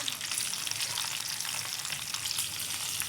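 Hot oil sizzles steadily and close as ingredients for mung masoor dal fry with kalonji seeds, a bright continuous crackle with faint stirring and no talking.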